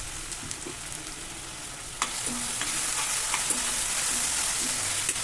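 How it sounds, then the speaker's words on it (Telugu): Ingredients for a green chicken curry fry in a pan with a steady crackling sizzle that grows noticeably louder about two seconds in, dotted with small spits and pops, and no one speaking. "ఇవి ఫ్రై అవనియండి."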